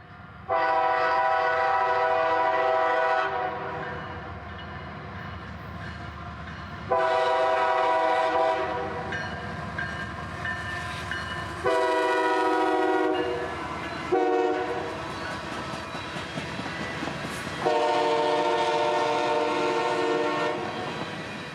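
CSX freight train 457 led by L&N Heritage Unit 1850 passing at night in Folkston, sounding a series of long, loud horn blasts with a rumbling engine and wheel noise underneath, close by.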